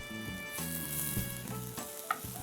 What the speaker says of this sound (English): We don't want too much color because we're not caramelizing them. We just want them lightly sauteed.